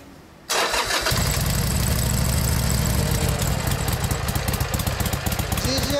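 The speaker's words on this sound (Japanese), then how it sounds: "エンジン音聞かせてもらいます" Motorcycle engine starts and settles into a steady, loud idle, from one of several bikes including a 2001 Yamaha DragStar 1100, 1996 Kawasaki Ninja ZX-11 and 2013 Sportster with aftermarket muffler; a low rumble continues throughout.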